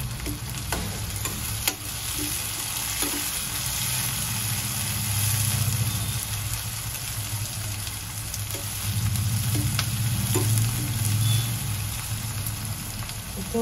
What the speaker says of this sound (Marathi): यावर 1 टोमॅटो घालूया आणि छान परतून घेऊया।